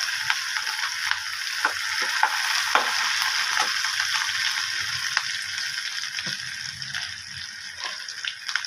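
Onions fry in a pan with a continuous soft sizzle, punctuated by small crackles and stirring clicks, close and moderately quiet.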